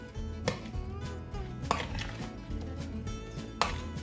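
A potato gratin mixture being stirred in a bowl, with scraping and clinking of a utensil against the bowl in a few sharp knocks amid softer swishing, close and fairly quiet, no talk.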